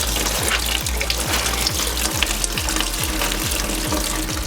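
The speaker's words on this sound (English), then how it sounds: "we're draining the coolant now underneath." Coolant drains from underneath a 2015 BMW F80 M3 during a heat exchanger install, a constant loud gushing splash that runs without a break, with a low rhythmic pulsing under the flow.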